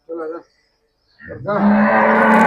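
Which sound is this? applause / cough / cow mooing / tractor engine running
cow mooing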